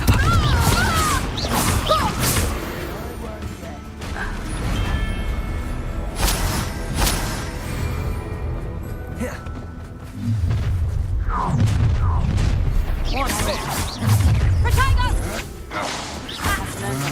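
Confringo blasting spell explosions in the video game Hogwarts Legacy, repeated booming blasts and whooshes with crashing impacts, loud and layered with game effects.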